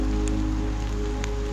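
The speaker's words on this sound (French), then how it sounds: "J'ai été accueilli dans la région par une grosse flotte bien drues comme on les aime." Heavy, dense rain falls steadily on surfaces in the Occitanie region of France, a continuous close-up patter with no voices.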